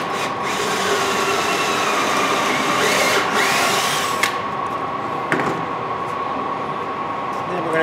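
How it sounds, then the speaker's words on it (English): Drill boring holes through a bottom board of a concrete planter mold, a steady loud grinding whir lasting several seconds with a few sharp knocks and a voice underneath. "Now I'm going to locate these holes in the bottom board by drilling through the holes that we just put in when it was upside down."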